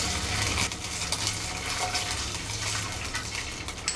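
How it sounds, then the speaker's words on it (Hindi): Ginger garlic paste sizzles and spatters loudly in hot oil in a pan, a dense continuous frying hiss with light scraping of a spoon stirring. "तेल गरम हो गया है, अदरक और लहसुन का पेस्ट डालेंगे,"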